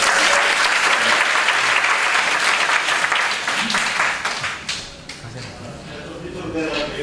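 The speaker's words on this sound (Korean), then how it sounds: "저기 보이지 않는 얼굴을 위해서 박수 한번 쳐주세요" A lecture audience gives a round of applause for the sound engineer working unseen in the back amp room, with dense, loud clapping that thins and fades slightly midway, then picks up again, with voices faintly mixed in.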